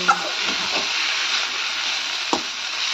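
Chowmein sizzles steadily in a hot pan while being stirred at home, a continuous frying hiss with a few brief scrapes of the spatula against the pan.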